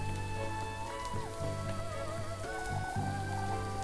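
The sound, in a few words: rain falling, from the video game Little Goody Two Shoes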